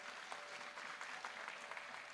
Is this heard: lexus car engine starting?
no